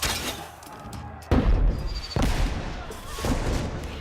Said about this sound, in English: when the alarm goes off in London, they fire these fireworks